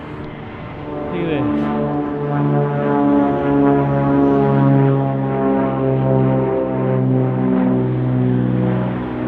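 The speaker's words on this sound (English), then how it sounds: "It's super noisy over here. We got airplanes." Airplanes pass overhead with a steady, droning engine hum that swells and holds for several seconds, and a voice briefly speaks near the start.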